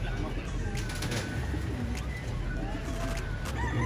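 Racing pigeons cooing near a loft during a training race return, soft low calls under steady background noise while people talk nearby.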